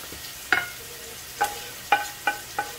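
Spoon strokes stir sautéed spinach, tomatoes, mushrooms, leeks and garlic in a pan, five brief scraping clicks at uneven intervals over a faint background, near and fairly quiet.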